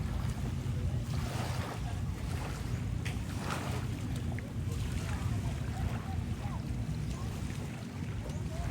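A boat moving on open water, with a steady low engine drone, wind buffeting the microphone and splashing waves around it.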